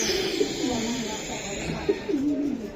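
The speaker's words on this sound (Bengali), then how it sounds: "এটা মাদি কবুতর" Domestic racing pigeons coo in low, rolling phrases near the start and again toward the end, amid a busy outdoor pigeon-market background with people talking.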